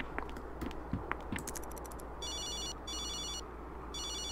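A telephone rings in The Sims 2, a synthetic electronic trill repeating in three steady bursts after some scattered game clicks, loud and clear with no talking.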